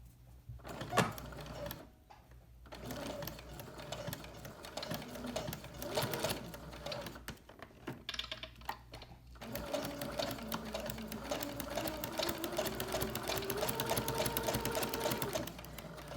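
A sewing machine stitches bias tape onto the edge of a quilted fabric pot holder in steady mechanical runs. The runs are broken by brief pauses, and the whirring rises in pitch as the machine speeds up.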